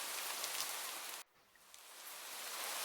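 Steady rain hissing in a video game alley scene, broad and even, cutting out abruptly for a moment and then swelling back to a continuous downpour.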